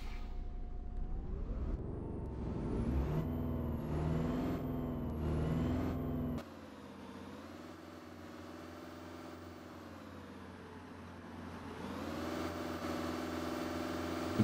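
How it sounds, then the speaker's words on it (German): A diesel bus engine in the OMSI 2 bus simulator game, a Heuliez GX X37, cranks and settles into a steady idle, its pitch rising and dipping a few times as it runs. "So, wir machen den Motor an."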